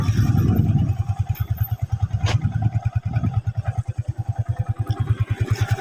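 A manual motorcycle slowing to a stop, its engine dropping from a loud rev into a steady, close, rhythmic idle thump that pulses evenly for several seconds with light mechanical clatter.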